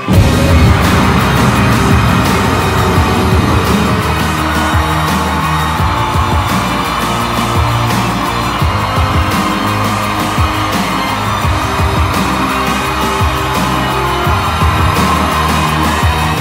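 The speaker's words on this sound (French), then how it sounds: "Il est en vie le moteur, mon pote." A car engine, just revived, starts and runs loudly and steadily throughout, a rough mechanical roar with rattles, close to the microphone, smoking heavily.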